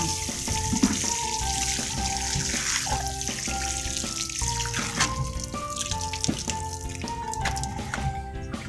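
Mint cuttings being watered until soaked: a continuous splashing, trickling pour of water with faint drips, steady and close throughout, with no voices.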